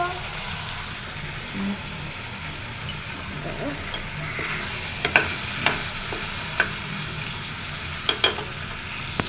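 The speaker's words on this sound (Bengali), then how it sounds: "চিংড়ি রান্নার জন্য পেঁয়াজ ভাজা হচ্ছে" Onions frying in a pan for a prawn dish, a steady close sizzle with occasional stirring clicks and sharper pops, with faint voices in the background.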